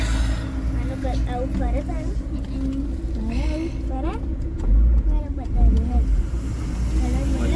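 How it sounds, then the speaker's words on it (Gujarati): Heavy road traffic on the way to Bhavnagar makes a continuous rumble of engines with warbling horn tones rising and falling, and louder swells as vehicles pass close, while people talk over it. "ફૂલ ટ્રાફિક છે।"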